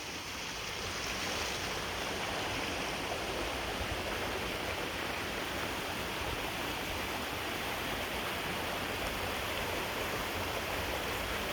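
Steady rushing water of a creek flowing through a snowy winter forest near a waterfall, a constant broadband wash with no voices.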